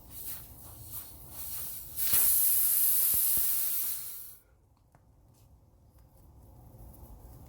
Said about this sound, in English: This will prevent the air from escaping from the tire.